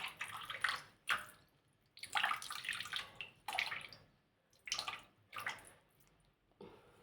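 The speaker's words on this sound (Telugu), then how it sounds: "ఇప్పుడు చూడండి, ఈ కొబ్బరికాయ నీళ్ళతోటి అభిషేకం." Coconut water is poured from a vessel over deity idols during an abhishekam ritual, splashing and trickling in several uneven bursts with short pauses between, fairly faint and close.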